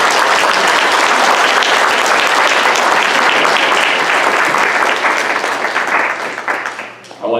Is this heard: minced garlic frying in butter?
no